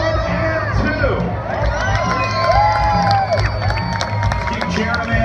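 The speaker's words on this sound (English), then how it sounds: "Keep cheering them in all the way through, guys, and done." Spectators cheer and shout as riders finish a pro men's bicycle criterium at the Redlands Bicycle Classic, a loud sustained crowd roar with whoops and high voices throughout.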